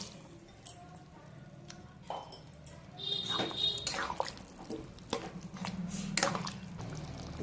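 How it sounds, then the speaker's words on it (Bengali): Boiled peas are poured into a cooking pot together with their cooking water, giving quiet sloshing, splashing and dripping for ghugni. Soft knocks and clatter from the pot come through in a calm kitchen. "মটরটা যে জলে সেদ্ধ করেছিলাম সেই জল শুদ্ধই মটরটা আমি দিয়ে দেবো এখানে"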